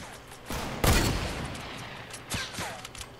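Rapid gunfire bursts from a Fortnite Battle Royale match, loud and close, with a heavy volley early and a few sharper shots later, no talking.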